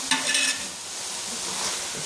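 Grated carrot halwa stirred and roasted in ghee in a pan, a steady close sizzle with a scraping stir near the start, no talking.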